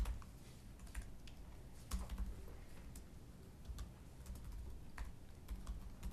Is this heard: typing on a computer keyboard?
yes